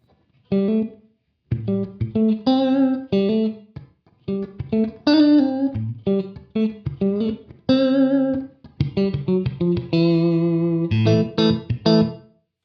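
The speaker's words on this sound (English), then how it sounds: "here we have a room reverb." An electric guitar through a room reverb effect, likely from an M9 pedal, plays a series of short picked notes and chords, each tail ringing briefly with a roomy ambience before the next phrase.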